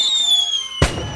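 A firework rocket or firecracker bursts with one sharp, loud bang after a high, steady whistling tone, at an outdoor religious festival for the Virgen de la Merced.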